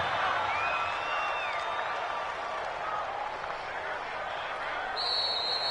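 A stadium crowd in a PS4 American football video game fills the background with a steady roar and scattered cheering, while commentators talk over it.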